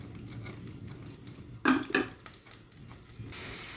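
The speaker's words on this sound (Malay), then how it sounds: "Okey, kita tumis bawang tadi yang kita kisar kasar tadi" Coarsely blended onion sautéed in a little oil, a soft low sizzle under sharp metallic clinks and scrapes of a utensil against the pan, close by, with a louder hiss rising at the end.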